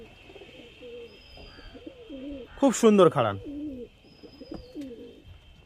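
Pigeons in a high-flying Giribaz pigeon loft coo in soft repeated rolling phrases, close by, while someone talks briefly over them in the middle.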